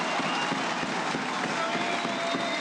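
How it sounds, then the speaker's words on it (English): A dense, steady roar from a basketball arena crowd near half-time of a close Champions League quarter-final, loud and continuous with scattered claps and shouts, no single voice standing out. "Just a crescendo coming out of the crowd."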